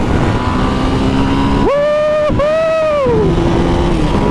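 A 2015 EBR 1190 SX motorcycle engine revs up hard, its pitch climbing, dipping briefly at a gear change, then rising again before settling back toward idle, loud and close throughout, with a brief excited shout over it.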